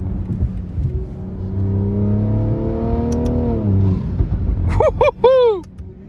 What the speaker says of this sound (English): You can definitely hear the intake more.